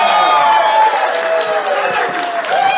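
An audience claps and cheers at a live show, a dense burst of applause with a few whoops running all the way through, fairly loud and close.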